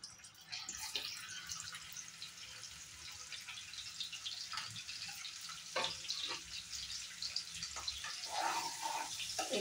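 Egg and potato pieces fry in a pan of oil for an egg curry, giving a faint, steady sizzle dotted with small crackles and pops.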